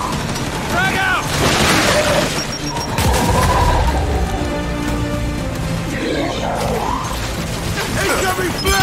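A frag grenade explodes in Gears 5 amid dense game combat, with heavy broadband blasts and rumbling booms that swell and persist over constant battle noise, while character voices shout over the action.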